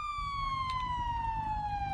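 A police car siren from a roleplay video game wails steadily as one loud, continuous tone that slowly falls in pitch over a constant low engine-like rumble.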